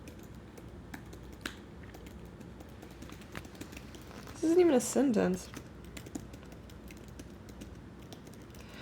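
Soft, rapid keyboard typing clicks along steadily, with a brief spoken remark in the middle.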